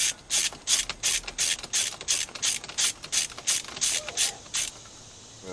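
A breaker bar ratchets against a tight steering wheel nut on a 2007 Scion tC, giving a rapid series of loud, close, metallic clicks in steady even strokes that stop near the end.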